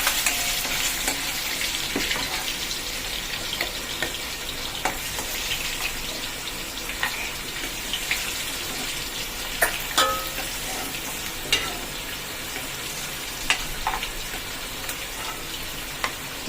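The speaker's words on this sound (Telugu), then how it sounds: "ఈ పక్కన గీలో జీడిపప్పు ఇంకా బాదం పప్పు కూడా ఫ్రై చేస్తున్నాను" Cashews and almonds fry in ghee with a continuous crackling sizzle, sharp pops scattered throughout and occasional stirring, plus a faint trickle of running water in the background; no voices.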